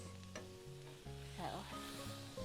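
Chopped vegetables salted and searing in a hot pan for a steak-and-lime-rice dish give off a steady, close sizzle with light stirring and scraping, no talk.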